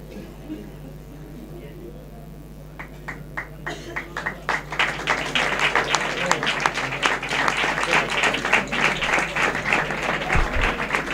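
An audience at a Carnival award ceremony in Isla Cristina breaks into applause a few seconds in, swelling from scattered claps into dense, steady clapping over a low background hum.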